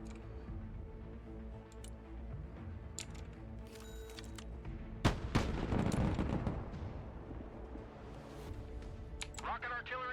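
Artillery fire in the Broken Arrow Narva defense scenario: distant booms and crackling shell impacts over a layered game soundscape, with one heavy blast near the middle followed by a rolling rumble, and a voice heard around it.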